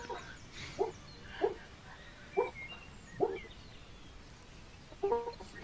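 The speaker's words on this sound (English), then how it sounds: "Barking in his sleep." A sleeping dog gives five short, muffled barks, soft yips spaced roughly a second apart with a pause before the last, faint and close in an otherwise quiet setting.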